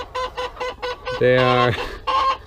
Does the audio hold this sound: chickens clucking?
yes